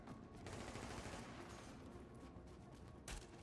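Sustained gunfire in the video game Tom Clancy's The Division's Dark Zone, dense overlapping bursts rattling continuously at low level, with one heavier blast near the end.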